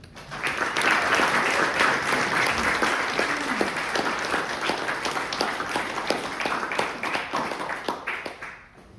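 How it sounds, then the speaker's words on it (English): A crowd at a poetry reading applauds for a poet, with dense sustained clapping filling the room and a few sharp claps standing out as it slowly thins toward the end. "Please give a round of applause for the poet Justin Boening"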